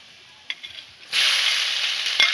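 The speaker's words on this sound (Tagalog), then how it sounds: "lagay natin yung garlic. At, antayin po natin na mag-golden brown." Garlic frying in cooking oil in a home kitchen, a steady close sizzle starting after a couple of light taps and continuing loud and even to the end, with no talk.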